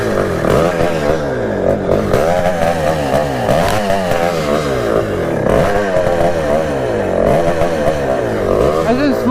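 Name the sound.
Kawasaki KX420 dirt bike engine running after bump start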